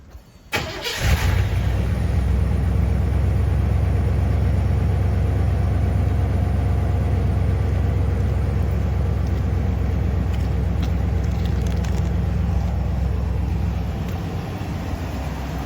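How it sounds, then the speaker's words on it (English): A 1999 Chevy K2500 crew cab short-box truck cranks over and fires on a cold, rainy 55-degree day, then settles into a steady, loud, close idle with a deep rumble and faint ticking for the rest of the run. "So I'm just gonna do a cold start real quick."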